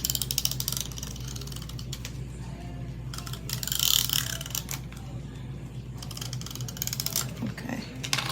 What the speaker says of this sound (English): I'm just going to put tape across 3 sides.